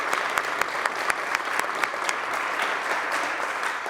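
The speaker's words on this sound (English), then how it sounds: "give them a warm round of applause" Sustained applause from an audience in a New York State Senate chamber session honoring cadets, dense, steady clapping from many hands with no pauses.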